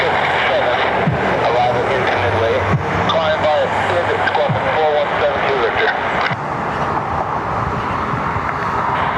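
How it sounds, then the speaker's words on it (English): A Southwest airliner from Baltimore taxis to the gate at Cleveland Hopkins airport, its engines a steady loud rumble and whine, with voices in the audio talking throughout. "this Southwest from Baltimore taxis to the gate"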